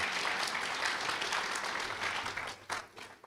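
Audience at an international program graduation ceremony applauding a graduate, steady broad clapping from many hands, fairly faint and distant, fading slightly toward the end.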